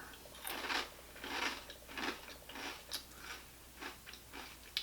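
Crunchy bites of Chex Original Party Mix chewed close up, a rhythmic series of about eight crisp crunches spaced roughly half a second apart, with no talking.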